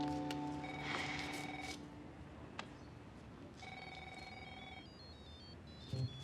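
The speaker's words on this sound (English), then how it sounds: "Yes, it's her ringtone." Lily's mobile phone ringtone trills faintly as a repeating electronic melody of short notes, heard muffled and distant beneath a low background hum.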